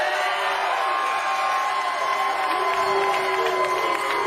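A bowling crowd cheers and whoops steadily at a pro bowling tournament, a continuous roar of many voices with scattered shouts rising over it, no single speaker standing out.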